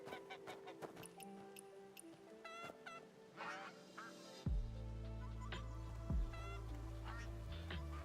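A goose honks repeatedly in a series of bright, close calls, with other fowl sounds and steady low background noise beneath.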